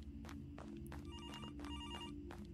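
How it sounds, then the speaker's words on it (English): A telephone rings repeatedly in the Graveyard Shift horror game, bright electronic trill bursts in a steady pattern over a constant low droning background. "Let's go pick up the phone."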